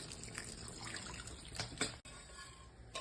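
Water runs and splashes steadily into a pot of milk paneer curry with spices, a continuous liquid trickle with a brief break near the end before it resumes.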